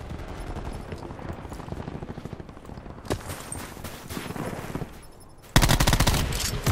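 Gunfire in Call of Duty Black Ops 4, rapid automatic bursts of shots in quick succession, close and loud, with a sharper louder burst near the end and no talking.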